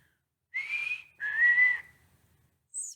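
A person whistles an imitation of a black-capped chickadee's song: two clear, steady tones, the first higher and the second slightly lower, close and fairly loud against silence, followed by the start of a brief high third note.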